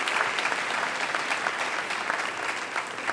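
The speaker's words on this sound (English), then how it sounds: "give a round of applause to our mayor here in Oakland" A crowd at the APEC closing reception in Oakland applauds the city's mayor, a steady, dense wash of clapping that stays loud and even throughout.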